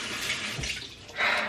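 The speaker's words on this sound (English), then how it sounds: "dampen it with some water" Tap water runs onto a makeup beauty blender sponge to dampen it, a soft rushing splash that swells briefly near the end, close and fairly quiet, with no talking.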